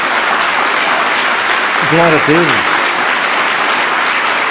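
A church congregation claps steadily and fairly loudly for the whole stretch, and a voice calls out briefly over the applause.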